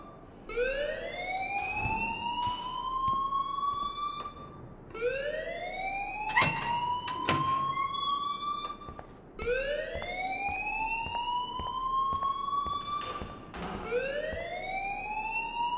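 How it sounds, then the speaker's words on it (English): Alarm siren in the Life is Strange video game, wailing in repeated rising sweeps about every four seconds, loud and steady, with faint sharp clicks and knocks between the cycles. "please turn off that alarm since that's your job"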